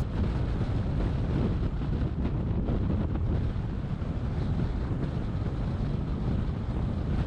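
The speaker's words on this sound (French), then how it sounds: "À cet endroit, le vent de face est très fort." Strong headwind roars and buffets against the microphone of a cyclist riding a time trial, a constant, dense rumble, loud and unbroken throughout with no voices.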